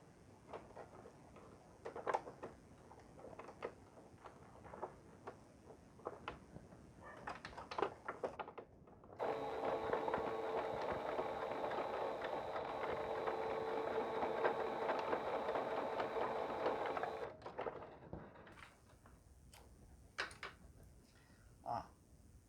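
Sewing machine stitching two pieces of fabric together with repeated backstitching, a steady whirring run of several seconds in the middle, framed by quieter handling noises and clicks before and after.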